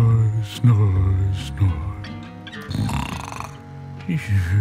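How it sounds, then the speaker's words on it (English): A snoring sound effect in a narrated children's storybook: deep, rumbling, rasping snores, several in a row and loud, mixed with a voice and music. "Snore, snore,"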